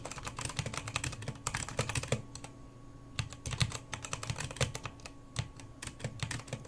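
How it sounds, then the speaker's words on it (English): Rapid clattering keystrokes on a computer keyboard come in uneven bursts with brief pauses, close and fairly crisp over a quiet room. "I don't like the typing."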